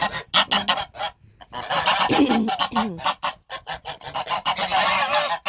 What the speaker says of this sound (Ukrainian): До гусей підходити неможливо. Вони зразу починають кричати.